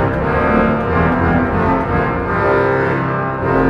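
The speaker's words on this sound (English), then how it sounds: "And a 16-foot trumpet, which is a transmission, I think" Organ playing a 16-foot trumpet stop, a deep, buzzy reed tone with dense harmonics sustained loudly throughout, the chord changing slowly with no talking.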